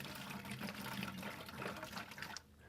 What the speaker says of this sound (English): just pour the sanitizing solution in the bucket